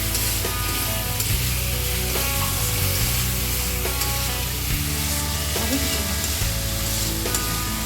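Spice paste for an egg and cauliflower curry frying in a wok, a loud, dense, continuous sizzle with stirring scrapes and low background hum, no speech.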